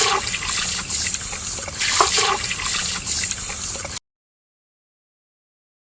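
Country cow's milk pours in a steady, splashing trickle for village-style ice apple kheer, running continuously for about four seconds before stopping abruptly into silence.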